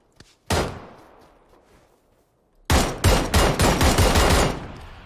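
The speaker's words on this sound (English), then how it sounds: "Oh, I'm getting shot from where we came from" Gunfire in the PUBG battle royale game: a single loud shot and a faint decaying tail, then a pause and a rapid burst of close, heavy shots fired in quick succession.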